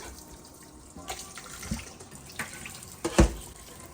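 Meat for pepper steak is rinsed under a running kitchen tap, with a steady faint water hiss broken by a few louder splashes and knocks near the end.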